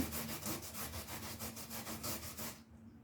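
Food is ground down on a hand grater for a traditional Puerto Rican recipe, making about a dozen quick, even rasping strokes in steady rhythm up close before it abruptly stops.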